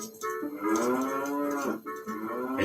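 Cows on a farm near a silo, lowing in long, loud, close moos, one drawn-out call broken by a brief gap before another begins.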